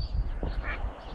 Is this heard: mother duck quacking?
yes